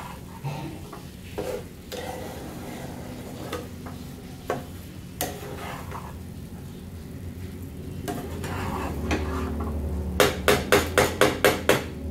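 A spoon stirs sugar into pulao in a pot, making scattered clanks and scrapes against the metal over a low background hum, ending in a quick run of sharp, evenly spaced taps.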